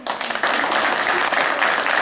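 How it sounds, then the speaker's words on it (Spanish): Applause from adults at a children's education association event, a dense steady clatter of many hands held at full strength for about two seconds after a brief softer start. "Fuerte los aplausos"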